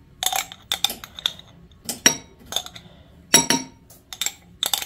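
A spoon clinks and taps sharply against a bowl or glass while ingredients are stirred to dissolve in hot water, a series of bright irregular knocks close up with quiet between them.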